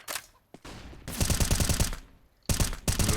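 A flashbang and gunfire sound in a tactical video game, with sharp bursts of shots and a rapid volley in the middle, then another loud burst near the end.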